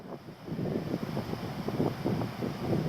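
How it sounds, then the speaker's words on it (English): Strong wind gusting across an open farm field, a steady rumbling buffet of air pressing against the microphone in uneven surges, with no voices. "the wind's really picked up again"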